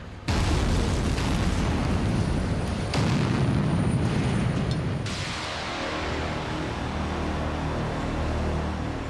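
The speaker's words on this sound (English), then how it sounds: "they have to be dug out the old-fashioned way, by drilling and blasting." Drilling and blasting of rock inside an Alpine tunnel: a massive, continuous roaring blast with rumbling debris that stays loud throughout, surging again partway before easing into a sustained heavy rumble.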